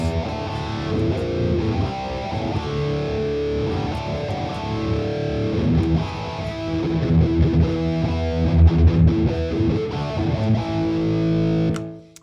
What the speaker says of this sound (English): We've got some phaser going. We got the parametric EQ going, a little bit of analog delay,